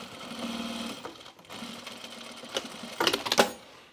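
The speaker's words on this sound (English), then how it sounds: "So now our zipper is right side up and we're gonna edge stitch." A sewing machine edge stitches along a zipper on a pair of Esmond pants, running in a steady close whir that pauses briefly and ends with a few sharper clicks.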